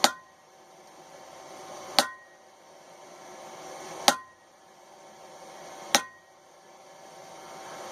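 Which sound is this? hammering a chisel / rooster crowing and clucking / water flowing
hammering a chisel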